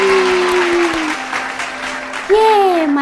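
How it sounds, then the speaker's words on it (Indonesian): Clapping and crowd applause at a children's Christian Bible-story event rise and continue throughout, with a voice calling out over it and a sustained tone sliding in pitch. "Kasih tepuk tangan buat Tuhan Yesus."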